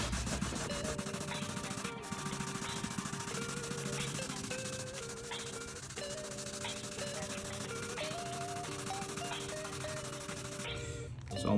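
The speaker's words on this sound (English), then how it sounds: "So I'm wet sanding horizontally" Steady wet rubbing and scrubbing of sandpaper on a sponge over car paint, continuous with a faint tonal hum in the background, no talk.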